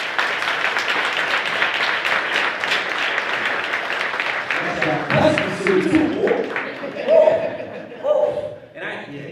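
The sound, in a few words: audience applause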